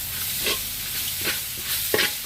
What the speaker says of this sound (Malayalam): മിക്സ് വെച്ചിരിക്കുന്ന പോർക്ക് ഇട്ട് കൊടുക്കാം കുറച്ചേ ഉള്ളൂ ഇട്ട് കൊടുത്ത് ഇളക്കാം